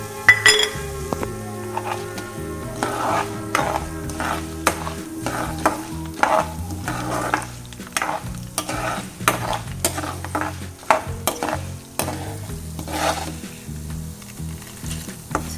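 Sesame seeds, coriander seeds, urad dal and chana dal dry-roasting in a pan for ginger chutney, a soft steady crackle with repeated clinks and scrapes of a spoon stirring against the metal.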